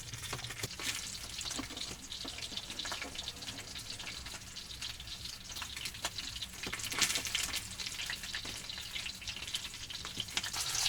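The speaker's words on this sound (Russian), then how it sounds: "пока жарится окорочок на сковородке, там сильный огонь" A chicken leg frying in a pan over a strong fire gives a steady, dense sizzle with crackling pops. It is fairly faint and continuous, with no voices.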